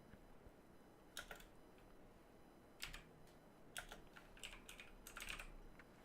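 Computer keyboard typing in quiet bursts, scattered sharp key clicks and short clusters of keystrokes, close but faint, with no talking.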